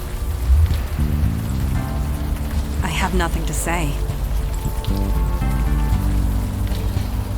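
Steady rain falls in the evening streets of Alphabet City in the game Unavowed, a constant soft patter under a voice speaking.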